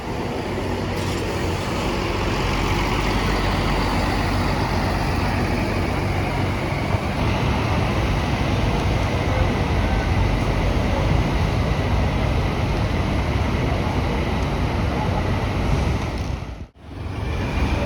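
Restu Patas bus from Magetan idling at Bungurasih bus terminal, a steady loud engine rumble mixed with broad terminal traffic noise that holds throughout before a brief dip near the end.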